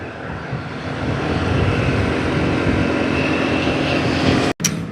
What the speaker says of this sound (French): il y a un petit avion là-bas, à l'aéroport juste en face